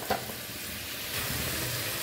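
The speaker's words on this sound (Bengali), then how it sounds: "আদা দিয়ে সম্বার দিব।" Crushed ginger tempering sizzles in hot oil in a pan while vegetable khichuri is cooked in a village kitchen, a steady close frying hiss that swells slightly louder in the second half, with no talking.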